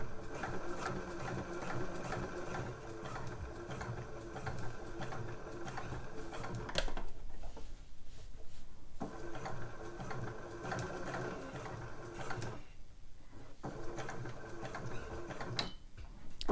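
A sewing machine stitches a slipper upper in long, steady rattling runs, pausing briefly twice before starting again, with nobody talking.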